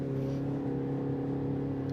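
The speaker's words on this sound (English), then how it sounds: "You're going to hear your engine a little bit more." A steady, droning 2026 Mini Countryman S engine in sport mode hums at constant revs, a low tonal growl filling the whole short stretch without change.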